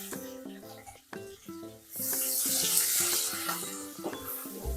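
Onions and green chilies fry in hot oil while being stirred. A loud, steady sizzle swells in partway through and continues with scraping stirs, and a voice is heard throughout.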